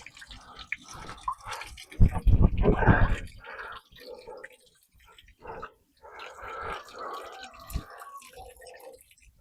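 Water drains and drips from a boat's pulled drain plugs with a hollow gurgle, loudest in a short burst early on, then trickling intermittently while a person talks nearby.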